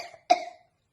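A single short, sharp cough bursts out on its own, fairly close and clear, then fades within a fraction of a second into silence.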